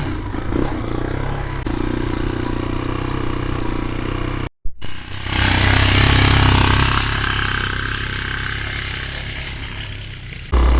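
A Brozz Recon motorcycle with a carburetor still needing tuning idles loudly nearby, cuts out for a moment, then revs and pulls away with a sustained, buzzing engine drone that gradually eases.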